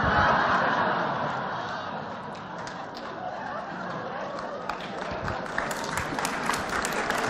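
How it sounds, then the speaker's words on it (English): Applause from an audience at an Easter Sunday gathering swells loudly at first, eases into a steady patter, then picks up again with a few sharper claps and murmurs from the crowd. "books don't often get applause"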